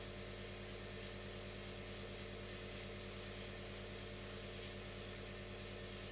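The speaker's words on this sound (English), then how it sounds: "I'm going to airbrush that centre, and then I do tend to go with the flow of the veins." An airbrush sprays color onto a sugar hydrangea flower, giving a continuous close hiss with a faint steady compressor hum underneath and gentle swells in intensity.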